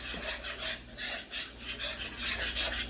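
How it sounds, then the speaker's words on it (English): A whisk scrapes rhythmically through creamed spinach sauce in a pan, close and fairly loud, with repeated rasping strokes at a steady pace and no talking. "Whisk it."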